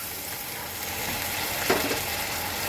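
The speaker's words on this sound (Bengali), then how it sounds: "তো মশলাটা জলের সাথে মিক্সড করে দিলাম" Spice paste for a katla fish curry fries with a little water, giving an even, close, continuous sizzle with a soft stirring scrape in the middle.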